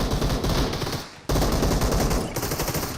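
Rapid automatic gunfire in the battle royale game BGMI crackles in loud, dense bursts, cutting out for a moment before resuming with continuous shots.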